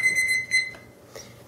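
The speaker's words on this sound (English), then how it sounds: "That was my timer for the 10 minutes." A kitchen timer alarm goes off during a pita bread demonstration, a bright sustained electronic ring lasting well under a second, then a couple of brief fainter beeps against quiet room hum.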